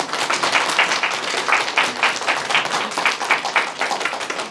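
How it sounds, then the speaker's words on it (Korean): Applause for the cast and staff at a film screening and talk event, a dense, steady round of clapping from the seated audience, fairly loud and continuous throughout without any voices. "큰 박수 한번"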